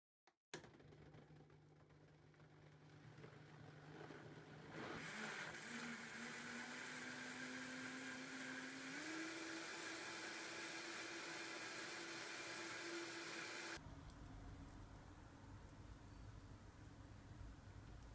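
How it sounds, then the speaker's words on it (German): A blender purees a green smoothie of fennel, dates, romaine lettuce and mint, starting with a sharp click and then whirring loudly and steadily. The motor pitch climbs in steps as it runs, then drops to a lower roar near the end. "jetzt werde ich das Ganze pürieren"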